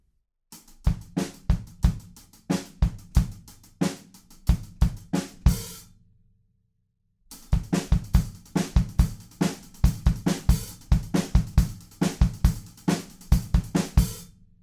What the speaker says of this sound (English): we continue with exactly the same groove, but we're just going to add 1 sizzled hi-hat